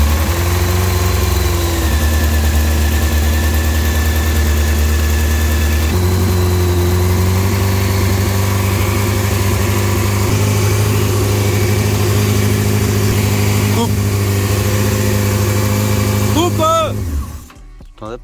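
A Honda CBR600F motorcycle engine runs at a loud, close, steady idle with a deep throbbing hum and faint overtones, revving up briefly near the end before cutting off abruptly.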